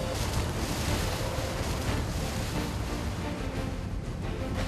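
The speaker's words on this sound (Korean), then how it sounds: "금방이라도 배를 삼킬 듯한 거센 파도" Rough ocean waves surge around a jumbo squid fishing boat off Peru, a loud, continuous rush of surf and wind with no voices.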